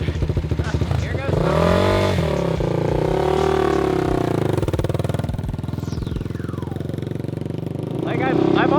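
A dirt bike engine revs under thumb-throttle control, its pitch climbing and falling through several swells with a close, steady mechanical drone, while a voice can be heard alongside.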